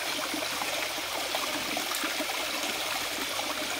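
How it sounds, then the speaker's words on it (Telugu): A small, clear stream seeping from beneath a rocky hillock in the Inuparathigatlu forest flows steadily, giving a continuous close hiss and trickle with no pauses or voices. "ఇక్కడ ఒక నీటి జాలు ప్రవహిస్తోంది."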